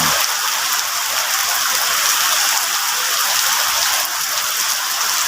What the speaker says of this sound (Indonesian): saat ini hujan deras